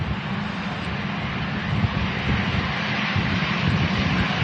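Virgin Atlantic Airbus A330 taxiing out at Manchester Airport, a continuous dense engine rumble and hiss at moderate loudness, steady over a few seconds with slight wind buffeting and no talk.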